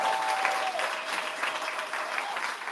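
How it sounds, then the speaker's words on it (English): Audience applause at a live event about the Uhuru 3 case, a steady wash of clapping from a crowd lasting the whole moment at moderate loudness, with no talk over it. "Let's give a round of applause."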